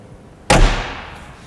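The door of a Mercedes 300SL Gullwing swings shut with a single sharp, heavy slam, followed by a short fading resonance.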